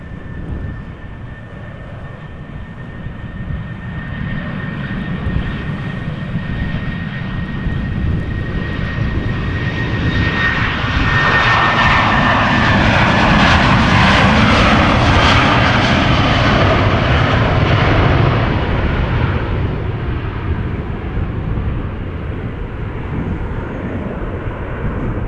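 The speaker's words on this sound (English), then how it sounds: "a Boeing 737-700, 13 years old, on the go already" A 13-year-old Boeing 737-700 on its departure roll at Amsterdam Schiphol, a loud, steady jet roar that builds to a peak midway and stays strong, with a faint engine whine running through it.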